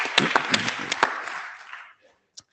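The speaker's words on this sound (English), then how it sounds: "Okay, we will clap." Audience applause at the IETF 121 plenary session, a short burst of clapping from a large crowd that fades out within two seconds, followed by near silence and a brief faint click.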